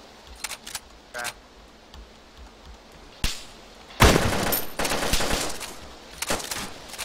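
Video game gunfire in a capture-the-flag match: scattered sharp shots early, then a loud sustained burst of rapid automatic fire with explosions from four seconds on, close and dense.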